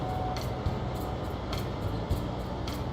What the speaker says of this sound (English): That's our train going by